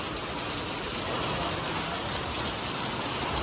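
Heavy May rain pours down in a steady, dense hiss without letup, loud and close, with no voices heard.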